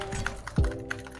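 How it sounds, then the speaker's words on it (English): Computer keyboard keys clack in a few quick, close taps with one heavier thunk, played during a Fortnite match, fairly quiet with no talking. "What's all that keyboard noise?"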